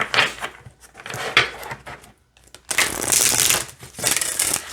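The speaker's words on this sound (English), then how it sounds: "let's see how they shuffle" Oracle cards riffle and slap together in quick bursts of papery shuffling, with short pauses between rounds and a longer, denser shuffle near the end.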